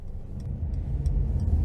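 A 2018 Mercedes-Benz GLC 300 4MATIC drives in Sport Plus mode, with a low steady engine and road rumble heard from inside the cabin and a few faint ticks over it.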